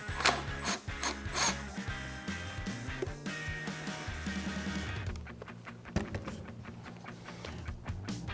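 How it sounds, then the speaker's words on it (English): An 8mm socket on a ratchet clicks softly while snugging intake clamps on a 2006-2022 Charger 5.7L during a cold air intake install, with quiet scattered taps and clicks close by. "I'm going to take my 8mm and just snug them up a little bit"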